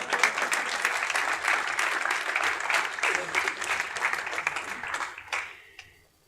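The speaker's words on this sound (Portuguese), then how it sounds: "Você podia aplaudir o Espírito Santo?" Church congregation applauding, a loud, dense wash of many hands that carries on for several seconds, then thins and dies away into near quiet.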